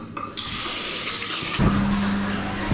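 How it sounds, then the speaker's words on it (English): A restaurant washroom tap runs for handwashing, a hissing stream of water that starts abruptly and then changes to a lower, fuller splash into the sink, close by and alone. "So I need to wash my hands."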